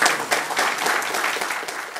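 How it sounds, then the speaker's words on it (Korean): A crowd at a tuition-fee debate forum applauding to welcome a candidate, a dense wash of many hands clapping at a lively, even intensity throughout. "우리 후보님께 큰 박수로 좀 우리 오늘 환영하고 또 감사의 말씀 드리겠습니다"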